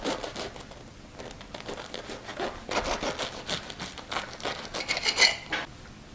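A small piece of meatball being cut with crinkly, rubbing scrapes and soft tearing sounds, close and quiet, with a slightly louder cluster near the end and no talking.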